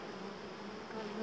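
Swarm of honeybees buzzing during a hive transfer from a board, a dense, steady droning hum close by, rising slightly toward the end.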